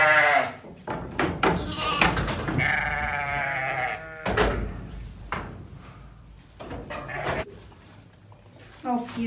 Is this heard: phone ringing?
no